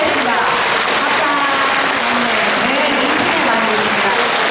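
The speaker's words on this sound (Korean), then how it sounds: "신년 할애에 참여한 교구와 교당을 소개하자 교도들은 환호하며 인사하기도 했습니다" A Won Buddhist congregation at a New Year gathering cheers and applauds. The clapping is dense, loud and continuous, with excited crowd voices mixed through it.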